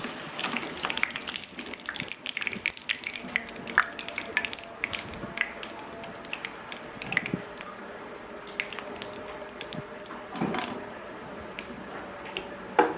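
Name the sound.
potatoes frying in hot oil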